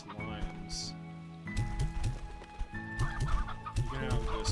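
Chickens cluck in the Slime Rancher 2 video game, repeated short clucks and bird calls coming in bursts over a steady background music bed, fairly close and busy.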